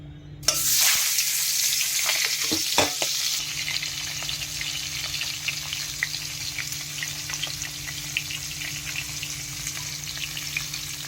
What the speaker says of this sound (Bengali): সর্ষের তেল এবার মাছগুলো দেবো নুন হলুদ মাখানো যা